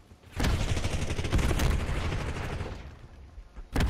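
A Saug submachine gun is hip-fired in Call of Duty Black Ops 6, a sustained loud burst of rapid shots for about three seconds that thins out, followed by another sharp shot at the end.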